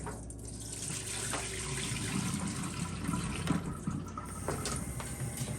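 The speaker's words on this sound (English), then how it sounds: "come over here and pour this paint out" Paint dye pours and splashes steadily into an old pan, a soft continuous trickle with a few faint knocks, no voices.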